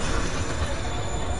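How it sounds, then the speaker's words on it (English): A train rumbles past in Marvel's Spider-Man, a steady low, dense roar that fills the whole moment without breaks, loud and close, with no clear talk over it. "That train."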